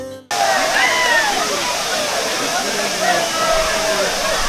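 A waterfall in the Pollachi countryside pours steadily with a loud, continuous rushing roar and a reduced flow, with no gaps or breaks.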